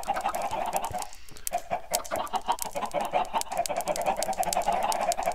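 A large flock of homestead chickens gathers close around a person carrying grass seed, clucking in a dense, continuous chorus with overlapping calls and scratchy movement.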